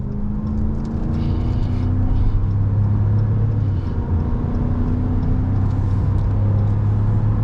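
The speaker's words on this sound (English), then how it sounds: "Listen to the sound of the motor." A pickup truck's engine hums and rumbles steadily under acceleration, a deep continuous drone with a slowly rising pitch heard from inside the cab, no talking.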